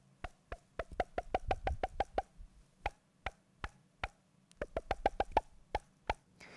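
A foley string wrapped around the fingers and pulled taut, giving a quick series of sharp, dry plucked snaps in irregular bursts, close and fairly quiet with no voices.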